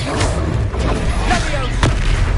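Spell blast from Confringo in the Hogwarts Legacy video game: a booming, explosive burst amid continuous combat noise and a dense game soundscape, sustained and loud throughout with a sharp hit near the end.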